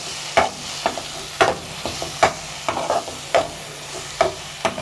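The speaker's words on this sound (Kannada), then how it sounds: "ಈಗ ಮಸಾಲೆ ಹಾಕಿ ಅದನ್ನು ಚೆನ್ನಾಗಿ ಇದರಲ್ಲಿ ಹುರಿತಾ ಇದ್ದೀನಿ." Crab masala frying in a pan, stirred with a spoon that scrapes and knocks the pan in a regular rhythm of about ten strokes over a continuous sizzle, close and clear with no talking.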